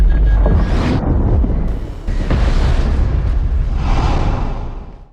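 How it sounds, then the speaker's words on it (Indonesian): A nuclear bomb detonates in the film Next, a loud, sustained roaring blast that rumbles continuously with a brief dip midway before swelling again and slowly fading. "Dan dalam waktu singkat, bomnya pun meledak."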